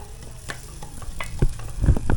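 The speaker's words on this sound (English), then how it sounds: "So now I'm frying, it's going well" Khasi tungrymbai scraping and clattering in a frying pan over a soft background sizzle, with a few louder stirring knocks toward the end.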